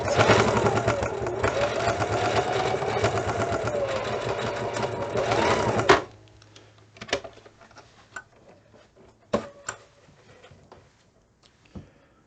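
A sewing machine stitching a fabric mask runs in a fast, steady whirring clatter for about six seconds, then stops, leaving scattered clicks and light handling noises.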